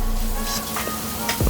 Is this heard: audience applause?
no